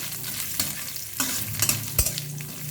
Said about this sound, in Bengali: নারকেল কুচিগুলো দিয়ে দেবো।